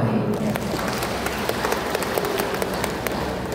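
A seated audience at a hajj pilgrims' reunion gathering in Lamongan applauds, giving a steady wash of many hands clapping at moderate distance with no voices over it.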